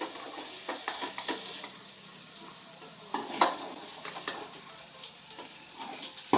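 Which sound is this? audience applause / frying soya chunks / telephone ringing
frying soya chunks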